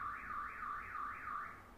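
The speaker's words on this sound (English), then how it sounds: "car alarm" Car alarm wailing in a repeating rising-and-falling siren sweep, about four cycles, steady and moderately distant with no talking over it.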